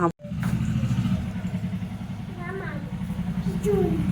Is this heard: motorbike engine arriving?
yes